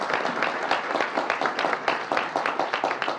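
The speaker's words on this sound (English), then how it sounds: "round of applause for Sunday Assembly" A live audience at a rally event gives a round of applause, with dense, rhythmic clapping sustained at a moderate distance and a few crowd murmurs beneath.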